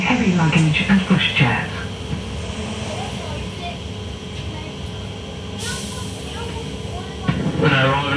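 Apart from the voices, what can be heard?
Class 323 electric train arriving at Bromsgrove station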